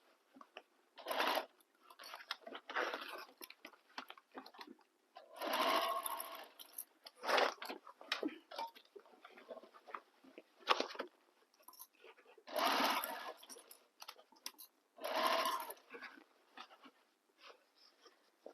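Sewing machine stitching a bag seam with lining underneath, running in several distinct bursts separated by short pauses, close and moderately loud, with no talking.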